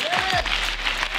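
An audience at an outdoor EFF bootcamp fitness event on Mandela Day applauds in a steady, dense wash of clapping with a faint voice briefly heard at the start.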